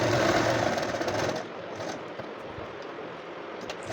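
A sewing machine runs steadily, stitching a double katori blouse with double seams; the motor hum is loud for the first second and a half, then continues a little softer, with no voices.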